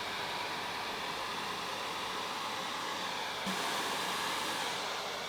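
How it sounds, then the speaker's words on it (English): Hair dryer blowing over poured acrylic paint, a steady faint airy whoosh that continues unbroken, with a slight shift in tone partway through. "But I'm going to use a different hairdryer now."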